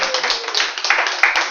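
An audience claps, a short burst of brisk, uneven hand clapping that is close and fairly loud.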